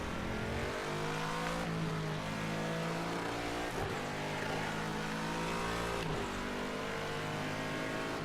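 Race car engine in a racing video game, droning steadily with strong harmonic whine and shifts in pitch as it revs, loud and continuous with no talking.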